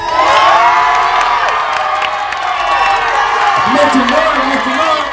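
A loud crowd at a jerkin dance battle cheers and shouts continuously, with excited whoops and yells layered over a dense roar of many voices.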